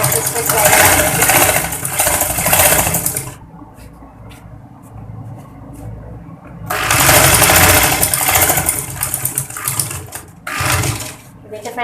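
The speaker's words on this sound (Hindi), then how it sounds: "अब फ्रेंड्स पे एक दोबारा सिलाई लगा देंगे ताकि ये मजबूत हो जाए।" A sewing machine stitches elastic onto a homemade surgical face mask, running in two loud, close bursts of fast whirring separated by a quieter pause, with a short final run at the end.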